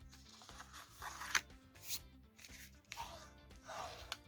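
Paper being creased with a bone folder for a floral scrapbooking project. Quiet scraping and rubbing strokes come close up in short bursts, and a few sharper crisp swipes stand out.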